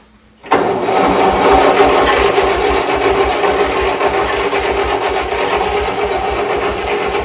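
Old Bobcat skid steer diesel engine cranking after a brief quiet start, a loud steady rhythmic churning of the starter turning the engine over continuously without catching.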